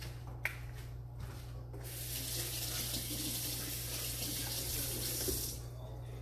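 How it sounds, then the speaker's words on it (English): A kitchen tap runs steadily while a hand is washed during cookie baking, starting with a few soft splashes before a continuous, fairly loud rush of water that stops near the end. "She needs to wash her hand."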